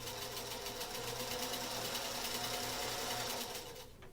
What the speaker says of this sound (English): Take your time when sewing your strips.